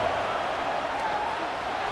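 A stadium crowd cheers in a college football video game, Arizona State versus Texas Tech on third down, a dense steady roar throughout.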